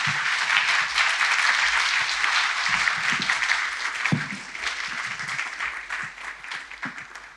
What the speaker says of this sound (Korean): 여러분 큰 박수로 환영해 주시면